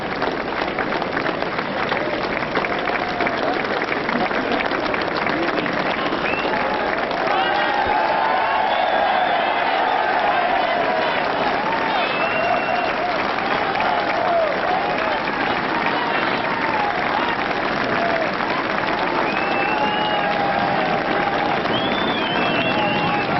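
A large racecourse crowd at Sandown applauds and cheers Desert Orchid's welcome after the 1988 Whitbread Gold Cup, a steady roar of clapping with scattered whoops and shouts that holds throughout.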